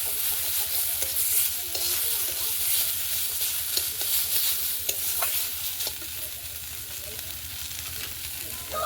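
Carrot, peas and cauliflower frying in a pan with ginger-cumin paste, a steady close sizzle with constant stirring and spatula scrapes throughout, no voices.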